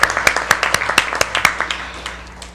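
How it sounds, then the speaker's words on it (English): A small audience at a public meeting gives a brief round of applause, a handful of distinct, fairly close claps in a loose rhythm that thin out and fade within a couple of seconds. "Let's give her a round of applause for being here."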